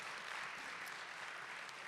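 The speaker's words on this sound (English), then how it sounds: "please give her another round of applause" At a spring high school band concert, a crowd applauds in a dense, even, distant wash of clapping that holds steady throughout.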